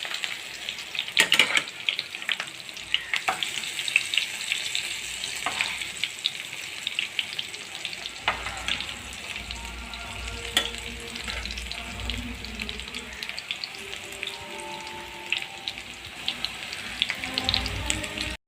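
Besan-battered cabbage stalks frying in hot oil, a continuous close sizzle and crackle with occasional clinks and scraping as pieces are turned in the pan.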